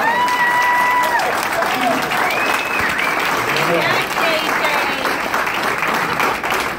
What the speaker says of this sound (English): I'd like a round of applause because right now he defends our country